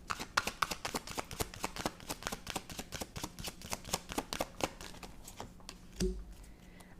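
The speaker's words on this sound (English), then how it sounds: "So let's pull some clarifying cards." Tarot cards riffle and shuffle in a quick run of crisp, close snaps, loud and steady throughout, with a brief thump near the end.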